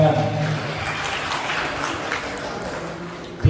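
An audience of university students applauding at a lecture on the history of Maulid, a dense, steady wash of clapping that holds for about three seconds before cutting off abruptly.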